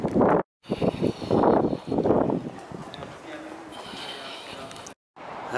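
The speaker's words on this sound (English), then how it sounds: "it's going to be limited narration because it's quite breezy here" Gusty wind buffets a microphone on exposed Holyhead Mountain near a Roman fort, a loud, broad rumble that drops out briefly twice, with a faint voice underneath.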